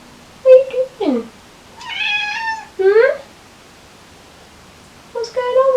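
A cat meows several times, short distinct calls spaced by pauses, close and fairly loud, with a person speaking to it in between.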